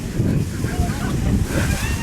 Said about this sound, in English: I think the gusts are blowing about 35 miles an hour right now.